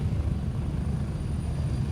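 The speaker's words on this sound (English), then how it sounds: "Comes the chopper." A helicopter arrives in Gray Zone Warfare, its rotor wash a loud, steady low thrumming roar that fills the whole moment without pause, close by and with no voices over it.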